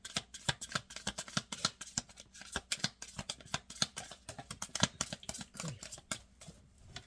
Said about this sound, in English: Cards are moving around.